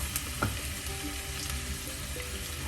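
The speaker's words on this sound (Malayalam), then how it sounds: "എല്ലാം കൂടെ ഇട്ടൊന്ന് വഴറ്റാം" Ginger, garlic and slit green chillies sautéed in hot oil with fenugreek seeds for a fish curry give a dense, steady sizzle, close up, with a couple of faint stirring knocks and no talk.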